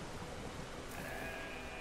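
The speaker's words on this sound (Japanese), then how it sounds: "その羊をこっちに連れてくるんだ。" A faint sheep bleat from the video game Brothers: A Tale of Two Sons rises briefly over a soft, windy ambient wash, with no speech.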